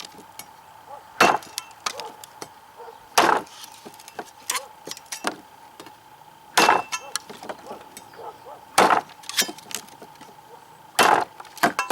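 A Cold Steel Heavy Machete chops a small piece of wood in kitchen work, a series of about six sharp, loud whacks spaced a second or two apart, each with a brief splintering crack, over a faint steady hum.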